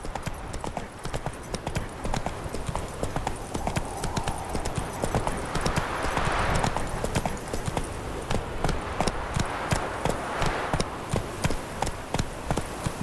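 Hooves of the horse Roach clip-clop in a quick, steady galloping rhythm in The Witcher 3, close and continuous, with light ambient game sound underneath.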